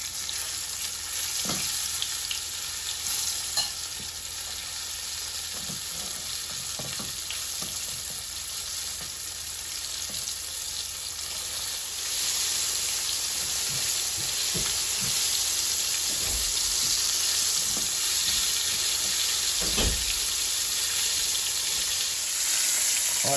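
Breaded green tomatoes frying in grease that is too hot, a loud steady crackling sizzle throughout with occasional low bumps and clicks from the pan, no talking.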